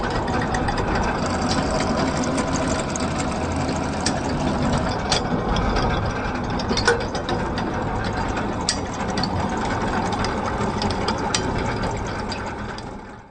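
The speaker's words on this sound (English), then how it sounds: "Heave up the anchor." A ship's anchor windlass heaves up the anchor with a loud, steady mechanical drone and grinding clatter of gears and chain, continuous for the whole stretch with no talk, tapering slightly at the end.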